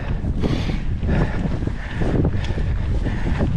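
Steady wind roars and buffets across an outdoor microphone, with gusty low rumbling throughout and no voices.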